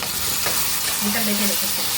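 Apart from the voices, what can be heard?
tomato puree frying in a pan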